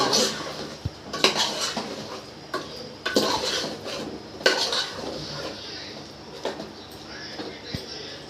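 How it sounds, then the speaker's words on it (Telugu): Chicken with biryani masala being mixed in a pot, with a metal spoon knocking and scraping against the sides in irregular clanks over a soft background hiss. "మసాలా వేసినాక మంచిగా ఇదంతా కలిసేలాగా కలుపుకుందాం బిర్యానీ మసాలా"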